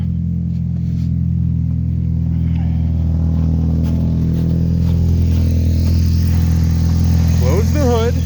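A car engine idles steadily after a jump start, its low, even rumble loud and continuous throughout, with a faint higher squeal near the end.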